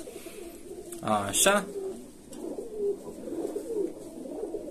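Pigeons cooing inside a loft, a brief burst of cooing and wing or body rustle close by, then softer low coos continuing under a man's brief spoken word.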